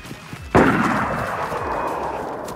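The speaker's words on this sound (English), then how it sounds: "those shots close though" A single sharp gunshot cracks out in DayZ, its boom lingering and slowly fading in a long reverberant tail, with no talk over it.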